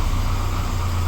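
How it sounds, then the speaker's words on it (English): Volvo 240 engine idling in park with the handbrake released, a steady loud low rumble with a constant hum and no variation over a brief moment. "Handbrake is down. She's in park, running."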